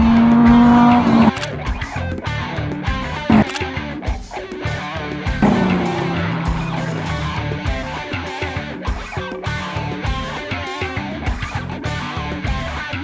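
A Gen 1 Dodge Viper RT/10 runs hard down an airstrip, its loud engine roaring continuously with rising and falling revs, gear changes and tire noise throughout, close and dominant with no talk.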